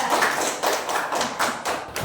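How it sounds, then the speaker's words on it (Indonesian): A classroom of students applauding a classmate: a short, ragged burst of claps and taps, moderately close, with uneven rhythm and no talking. "Ya, tepuk tangan buat teman kalian."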